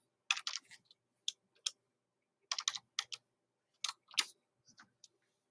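Close, quiet typing on a computer keyboard in short bursts of rapid key clicks, separated by brief pauses of silence.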